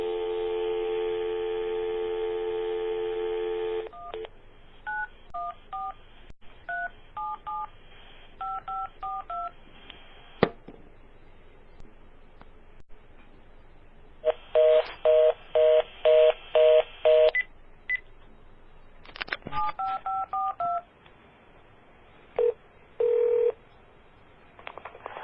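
A recorded phone call opens with a steady dial tone, then loud clear keypad tones in quick groups, a short gap, another fast burst of digits, and a few more tones with brief ringing segments.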